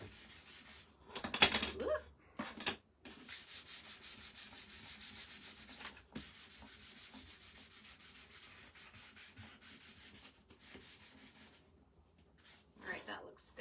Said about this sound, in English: And gently sand our pink cloud rectangle here.